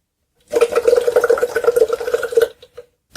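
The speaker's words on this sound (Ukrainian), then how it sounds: "Маракас з водою." A homemade maraca filled with water is shaken for about two seconds in a children's water-music activity, giving a steady, fairly loud sloshing rattle that then stops.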